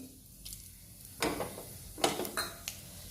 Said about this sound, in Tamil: எண்ணெய் காஞ்ச உடனே இந்த கறி மசாலா, இலை, பட்டை, லவங்கம், கல்பாசி எல்லாம் இதில் போடணும்